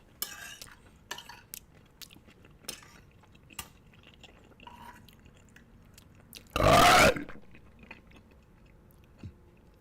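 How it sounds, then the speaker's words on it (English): A man lets out a single loud belch partway through, standing out against quiet background clatter of dishes and cutlery. "Wouldn't somebody like to give me a grade on my belch?"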